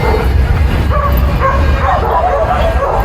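Several dogs romp and bark together in an outdoor dog park, with yips and whimpers rising over a steady loud background across the short stretch.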